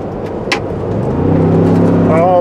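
A 2023 Ford Bronco Wildtrak's 2.7L engine runs smoothly and close by, a steady low hum that rises slightly in pitch, with a voice talking over it.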